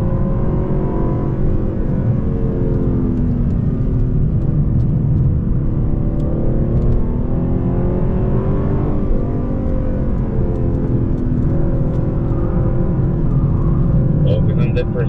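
A Lexus with a 10-speed automatic runs around the Mid-Ohio race track, its engine a loud, steady low rumble and whir throughout while a driving instructor talks over it.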